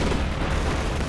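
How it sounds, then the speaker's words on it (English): Airstrike explosions in a strategy game form a brief, heavy, continuous rumble of close booms, loud and dense throughout. "Airstrike."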